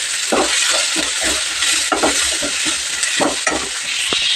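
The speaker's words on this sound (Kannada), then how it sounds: "ಕರಿಬೇವು ಸೊಪ್ಪು ಈಗ ಹಾಕ್ತೀನಿ" Curry leaves drop into hot oil already spluttering with mustard seeds for a tempering, giving a steady loud sizzle broken by short scraping strokes of stirring.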